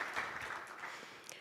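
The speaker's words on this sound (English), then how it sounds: "that deserves a round of applause." Scattered applause from a conference audience at a digital payment event in Ethiopia, a brief, fairly quiet burst of clapping that stays steady and then thins slightly toward the end.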